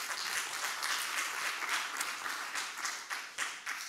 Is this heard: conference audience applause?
yes